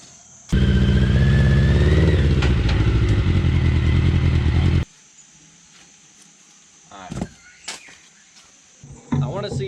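Mini trophy truck engine revving hard for about four seconds as it strains to climb out of a hole, loud and close, then cutting out to near quiet with a few clanks and brief rustling afterward.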